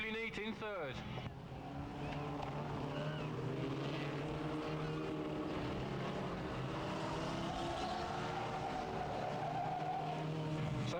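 Race cars lapping Bovingdon Raceway in 1300s stock-car racing, engines droning and whining as they round the pit bend, with several overlapping cars at a distance; a commentator talks over the sound throughout.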